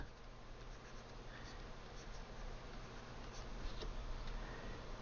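A pencil sketching a nose on paper, with soft continuous scratchy strokes and light taps, faint and close, over a quiet room hiss.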